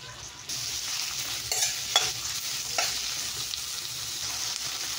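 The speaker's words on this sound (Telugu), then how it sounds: "ఆనియన్ ఇంత సైజువి 3 ఆనియన్స్ వేసానండి." Three onions fry in a pan with a constant close sizzle, punctuated by a few scraping stirs of a spoon during chicken curry preparation.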